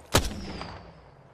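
A single loud gunshot from the shooter game Apex Legends, cracking close and then trailing off into a fading, ringing echo.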